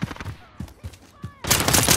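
Pistol gunfire in the Modern Warfare video game, several sharp single shots in quick succession followed by a loud, dense burst of firing, close and punchy.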